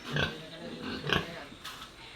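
A domestic pig squeals for food in three sharp, close bursts with short gaps between them, loud and shrill with no talking over it.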